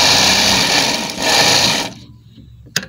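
A sewing machine stitches a side pocket onto a men's kurta, whirring fast and loud for about two seconds before stopping, followed by a brief click.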